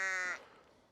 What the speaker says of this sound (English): I can hear some sheep moving in the background